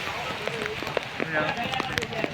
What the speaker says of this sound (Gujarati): વરસાદ ફૂલ ચાલુ જ છે